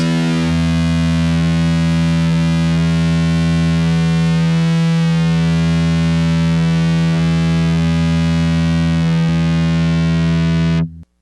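A thick, buzzy fuzz-toned instrument note sustains steadily and loudly for several seconds before stopping abruptly.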